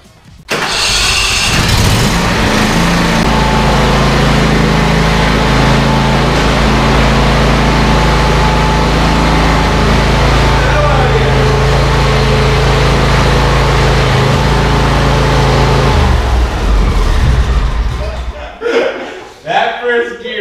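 A small, mid-pitched engine revs hard and steadily for a long stretch during an attempted burnout, with a loud, close, sustained roar. At the very end it cuts out into a few short bursts.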